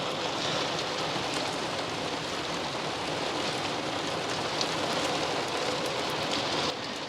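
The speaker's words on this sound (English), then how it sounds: "We've got rain now" Steady rain falls on a beach at Aransas Pass, a dense, even hiss of drops holding at one level throughout, with no voices.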